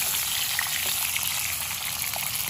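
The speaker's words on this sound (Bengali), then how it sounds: "এই পটল কটাও আমি হাই ফ্লেমে ভেজে নেব" Steady, dense sizzling of pointed gourd frying in hot oil over high flame, close by and continuous, with faint crackles and no voices.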